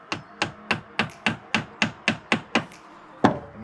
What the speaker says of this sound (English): And we hammer that into there.